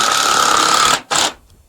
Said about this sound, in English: I'm just gonna put like three screws in it